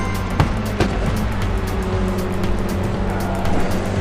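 A race car engine roars steadily in a racing video game at Imola, running close and loud at high revs with brief gear-shift dips, slipstreaming another car, with no voices.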